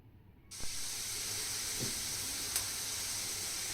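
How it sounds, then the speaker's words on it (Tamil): After a brief quiet moment, chopped cabbage, onion and green chilli sauté in a hot pan with a continuous loud hissing sizzle and one or two soft clinks, without any speech. "இப்போ வந்து நம்ம கட் பண்ணி வச்சுருக்க கேபேஜும் இது கூட சேர்த்துட்டு நல்லா வதக்கிக்கலாம்."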